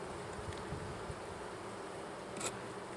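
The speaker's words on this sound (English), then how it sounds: "Certainly full of bees." A faint, continuous hum of many honey bees buzzing together in a hive, low and steady, with one brief louder buzz passing close by.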